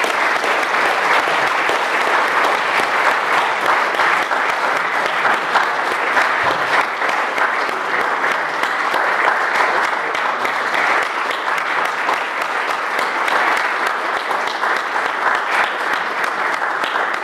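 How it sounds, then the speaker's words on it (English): Prolonged audience applause at an anniversary meeting, many hands clapping in a thick, continuous wash that stays loud and even throughout, with no speech over it. "So, a round of applause."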